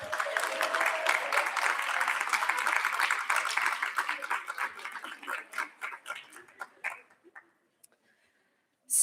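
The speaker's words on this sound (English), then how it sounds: "give them a round of applause" Audience applause for supporters at a recognition ceremony, a loud sustained burst of clapping that thins into scattered claps and dies away to near silence.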